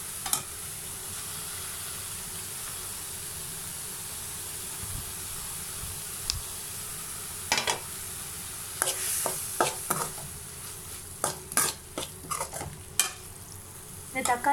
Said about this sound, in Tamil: இந்த தக்காளி நல்லா சாஃப்ட் ஆகுற வரைக்கும் நம்ம இந்த மாதிரி வதக்கி விட்டுடலாம்